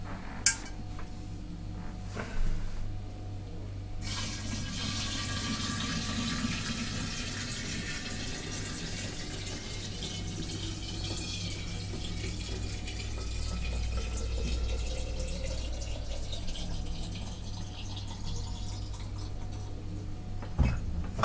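Moonshine at 40 percent strength pours into a jar of wild strawberries, a steady close rush of liquid that runs continuously for most of the stretch after a few brief clinks at the start.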